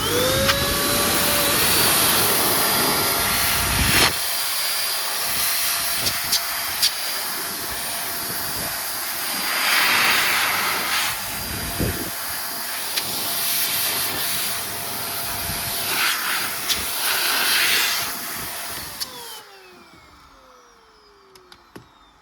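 An air blower dries freshly cleaned leather car upholstery, producing a loud continuous rushing hiss with small fluctuations for nearly twenty seconds before cutting off abruptly.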